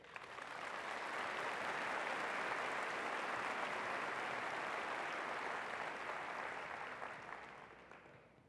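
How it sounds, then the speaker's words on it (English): A large commencement audience claps steadily at a spring university graduation ceremony, a dense, even wash of applause that swells in, holds for several seconds and gradually tapers off at the end. "Please now join me in acknowledging all of them with your applause."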